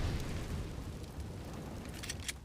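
A grenade explodes in a Counter-Strike match on Dust2, a deep rumbling boom that decays slowly, followed by faint sharp clicks and pops near the end.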